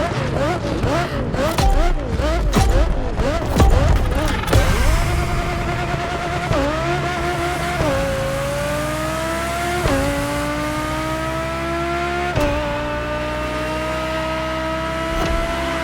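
An Audi luxury racing car in The Crew Motorfest revs hard with squealing tires, then its engine climbs steadily through repeated upshifts, each gear change marked by a brief dip before the loud, close tone rises again; no one speaks.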